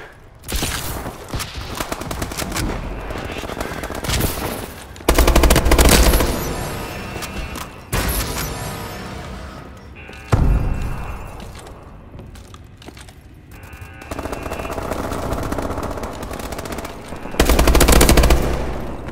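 Rapid automatic gunfire in Call of Duty: Advanced Warfare team deathmatch, loud bursts of machine-gun fire broken by short pauses, with shots cracking and overlapping throughout.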